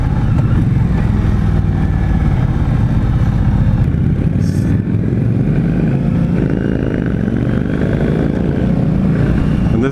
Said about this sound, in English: This bike revs pretty high.